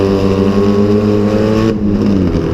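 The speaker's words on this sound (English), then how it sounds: "Kind of do a little brake check." A car cruises with a steady, droning engine hum, then its tone abruptly dips and falls as the brakes get a light tap, close and loud throughout.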